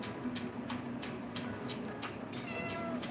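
A house cat meows repeatedly indoors, about six or seven short cries spaced at a steady pace, fairly close and clear over a quiet room tone.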